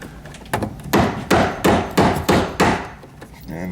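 Staple gun or hammer driving staples to fasten electrical cable to a wooden stud, six sharp, evenly spaced percussive strikes ringing with a woody thud, close and loud, with no talking.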